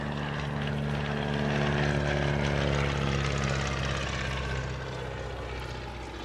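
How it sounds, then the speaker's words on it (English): A Focke-Wulf 190 warbird flying at an outdoor military airshow, a steady loud propeller-engine drone that swells and then slowly eases as the plane passes. "Such aircraft as a Focke-Wulf 190."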